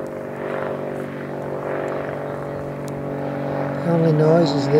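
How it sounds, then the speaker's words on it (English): Propeller planes fly over open coastal dunes beyond a pinewood, giving a steady droning hum with tonal whine that swells slightly louder near the end, with wind and outdoor ambience beneath. "only noise is the annoying bloody planes flying over"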